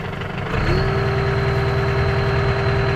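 A Case 844XL tractor's diesel engine idles steadily and close by, a low even rumble with a faint high whine, rising slightly in pitch after a brief change near the start.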